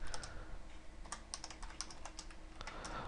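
Rapid typing on a computer keyboard, with uneven clusters of light key clicks and short pauses between bursts, close to the microphone over a low steady background hum.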